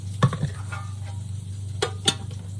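Flour-dredged chicken fries in a skillet with a low, steady sizzle, punctuated by a few sharp utensil clicks and taps nearby.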